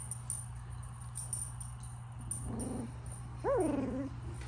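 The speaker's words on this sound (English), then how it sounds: "Oh, I hear some baby growling." Pomsky puppies make small growling and whimpering sounds, a low grumble that ends in a brief high yelp-like whine near the end, over a steady low hum.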